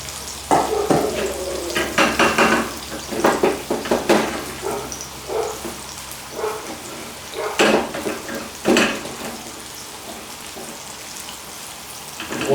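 Battered chicken pieces sizzle and crackle in hot deep-frying oil, a steady bubbling hiss broken by clinks and stirring sounds, close by and without talking.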